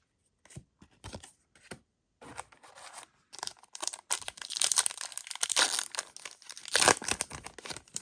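Disney Lorcana Rise of the Floodborn booster packs being ripped open, sharp foil tearing and crinkling bursts in irregular clusters, growing louder and denser toward the end with no talking.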